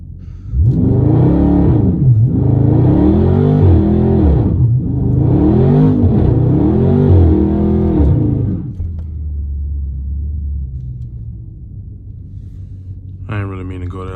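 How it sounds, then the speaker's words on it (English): A Dodge 392 Scat Pack doing a short burnout in cold weather, its engine revving hard in repeated rising and falling surges, loud and close, before settling to a low idle with a brief sharp noise at the end. "Slight little burnout."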